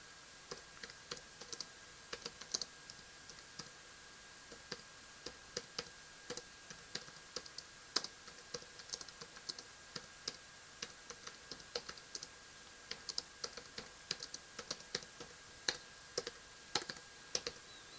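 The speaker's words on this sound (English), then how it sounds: "So I tend to mistype a lot, but I tend to type really fast too." Rapid typing on a computer keyboard, a quick irregular stream of sharp, close key clicks, quiet overall with no talking.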